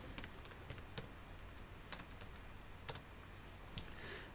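A few faint, sparse keystrokes and clicks tap on a computer keyboard as a command is entered, quiet and close with a soft background hiss.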